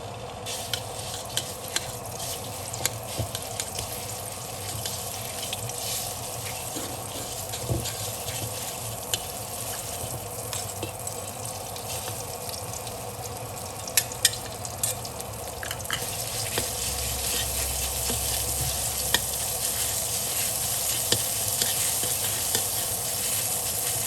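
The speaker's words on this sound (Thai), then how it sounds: "ผัดพริกแกงให้หอมก่อนค่ะ" Curry paste stir-fries in about a tablespoon of oil in a pan for Thai nam prik ong, giving a steady close sizzle with occasional scraping stirs and clicks throughout, no talking.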